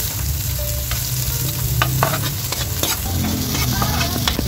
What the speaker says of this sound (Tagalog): Sunod na rin natin guys itong ating mga sibuyas.